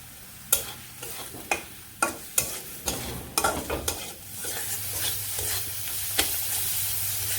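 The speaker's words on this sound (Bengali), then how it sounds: "মশলাটা ভেজে নিচ্ছি" Ground turmeric, coriander and cumin fry in a pan for a meat curry, a steady sizzle punctuated by repeated sharp stirring scrapes and clanks of a spoon against the pan, close by with no voices.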